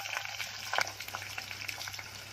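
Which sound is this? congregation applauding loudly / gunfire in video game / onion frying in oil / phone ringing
onion frying in oil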